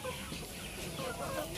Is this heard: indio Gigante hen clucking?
yes